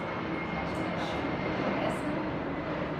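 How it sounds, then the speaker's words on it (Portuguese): An airplane passes overhead, a steady, fairly loud broadband roar that fills the whole clip without breaks, slightly swelling near the end. "esse avião atrapalha bastante."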